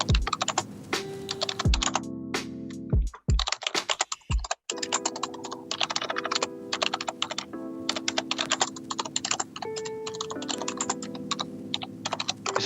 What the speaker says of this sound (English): Is it blind typing what you do, Thomas?